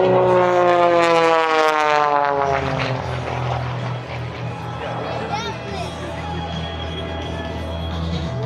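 A propeller aerobatic airplane flies at an airshow, its engine drone loud and continuous with a clear rising then falling pitch sweep as it climbs through a loop, under crowd and announcer noise.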